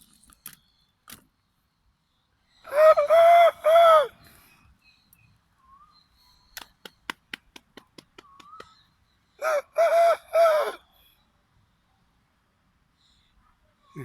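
Close by, a rooster crows twice, each call a loud multi-part cock-a-doodle-doo separated by several quiet seconds, with scattered clicks and light taps in between and no voices.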